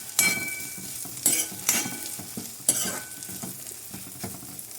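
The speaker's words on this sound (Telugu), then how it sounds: "ఒక మీడియం సైజ్ ఆనియన్, ఒక 4 పచ్చిమిరపకాయలు ఇలా సన్నగా కట్ వేసుకుని ఫ్రై చేసుకోవాలి" Sliced medium onion and four thin-cut green chillies fry in a pan after mustard and cumin seeds, a steady close sizzle broken by several sharp bursts of stirring and spoon scrapes.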